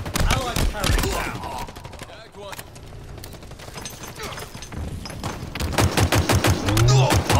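Rapid bursts of automatic gunfire from a Halo Infinite multiplayer match, dense crackling volleys loud at the start and again near the end, with a quieter stretch between, over game sounds and faint voices.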